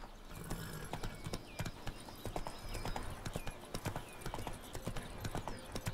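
Roach the horse trotting in the video game Witcher 3, a steady rhythmic clip-clop of hooves close up, continuous and even throughout with a faint background bed.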